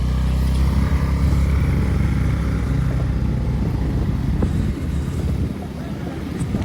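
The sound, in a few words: motorcycle being ridden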